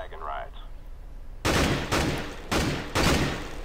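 Gunfire in Counter-Strike: Global Offensive, four loud evenly spaced bursts of shots after a quieter opening with a brief voice.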